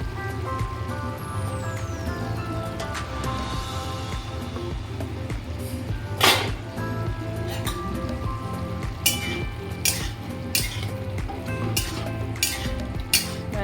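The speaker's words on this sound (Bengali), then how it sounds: "এবার আমি ঢাকনাটা খুলবো দেখো" Lid lifted off a pot of luffa and prawns simmering on medium heat, bringing a steady bubbling hiss punctuated by several sharp metallic clinks of the lid and utensils.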